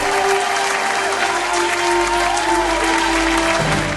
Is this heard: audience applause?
yes